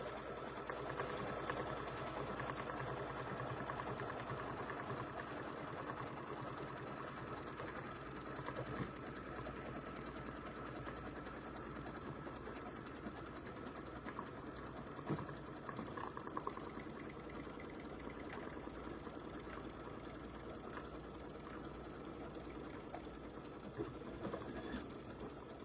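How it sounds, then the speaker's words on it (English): An embroidery machine stitches an in-the-hoop Chucky pumpkin potholder with exposed ribbon, its fast, steady mechanical whir running loud and continuous for the whole stretch, with no talk over it. "You do have the ability to slow down your machine."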